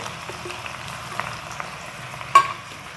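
Garlic goes into hot oil in a saucepan for a mango pickle, giving a steady soft sizzle and crackle, close by, with one sharper clink partway through and no talking.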